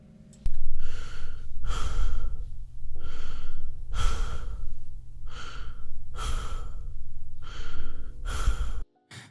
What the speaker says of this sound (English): was greeted with about 10 seconds of heavy breathing before he spoke